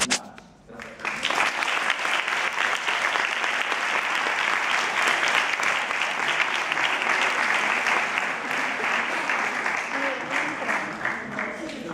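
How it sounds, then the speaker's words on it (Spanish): Sustained applause from an audience for cooking institute students, a dense, steady clatter of many hands lasting over ten seconds after a brief pause, fairly loud and close. "os dé un gran aplauso a todos los alumnos del Instituto de Cocina"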